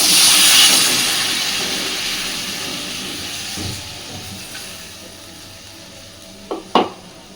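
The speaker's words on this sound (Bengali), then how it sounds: "এবার মিক্সির বাটিটা ধুয়ে জলটা এখানে দিয়ে দিই।" Rinse water from a mixer bowl poured into frying masala, a loud hissing burst of steam that fades over several seconds, followed by a couple of brief clanks.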